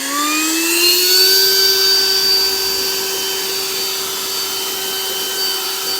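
An Osuka OCLB446-P1 leaf blower runs on its turbo top-speed setting, a loud, close, steady high-pitched whine that rises in pitch during the first second and then holds constant.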